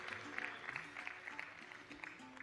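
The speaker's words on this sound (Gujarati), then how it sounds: "એક વખત હાથ તાળીના નાદથી આપણે તેમને વધાવી લઈશું." An audience at a religious festival gathering claps to welcome a guest, heard as scattered, fairly distant hand claps with background hum and murmur underneath.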